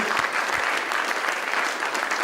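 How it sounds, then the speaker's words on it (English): A business conference audience gives a warm round of applause for the event sponsors at a closing ceremony, a dense and fairly loud patter of many hands clapping steadily for a couple of seconds. "ladies and gentlemen, a warm round of applause for our sponsors"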